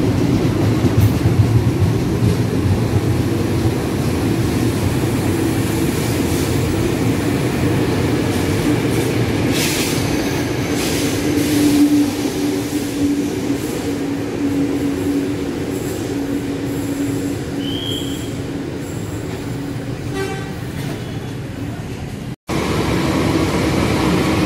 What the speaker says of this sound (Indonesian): Kereta baru